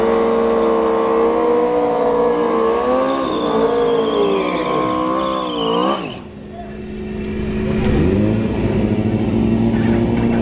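A Yamaha motorcycle and a CX-14 launch off the line at a drag strip, engines revving and howling loud and close, dropping off abruptly before a fresh rising roar builds, with a voice talking over it.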